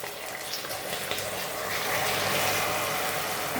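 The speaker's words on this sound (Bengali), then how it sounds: "অল্প জল দেবো, বেশি না।" A small splash of water poured into caramelized sugar in a pan for Bengali bhagar payesh, making a steady broadband rushing hiss that swells slightly toward the end.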